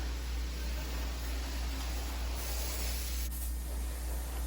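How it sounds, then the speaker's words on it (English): Tire cleaner is sprayed onto the tires of a Mahindra Roxor, a continuous close hiss of aerosol spray over a low steady hum, lasting several seconds without a break. "So I just sprayed on there real quick just to get everything soaked."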